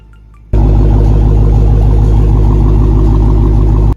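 Loud, steady engine rumble from a 2023 Dodge Challenger SRT Hellcat Jailbreak Edition, starting abruptly after a brief quiet moment and holding a deep, even idle for several seconds before cutting off.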